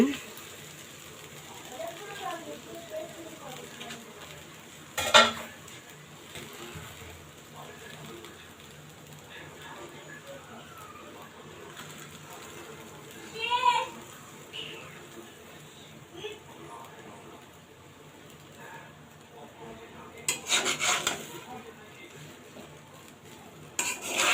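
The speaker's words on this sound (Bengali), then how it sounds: "নুডলসগুলো আস্তে আস্তে এখন সুন্দর করে নাড়তে হবে" Chicken mince noodles stirred in a small pan give a few sharp metallic clinks and scrapes over a quiet background, and a voice speaks at times.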